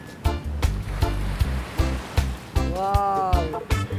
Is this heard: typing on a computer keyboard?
no